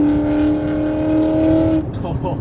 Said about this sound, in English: C7 Stingray versus Terminator.